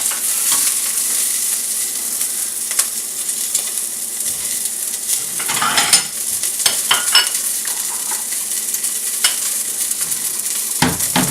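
Turkey browns in a pot for stock, a loud close sizzle with frequent stirring scrapes and clicks against the pot throughout; no talking.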